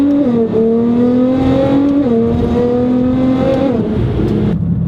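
A 2009 or 2015 Nissan GTR with a full custom exhaust, Cobb SF intake, tune and E85 flex fuel kit roars very loudly up close, its engine note stepping through gear changes under sustained acceleration before easing off.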